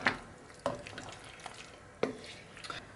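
Fusilli pasta stirred in a pan, with a few soft wet clinks of the spoon against the pan over a quiet, faintly sizzling background.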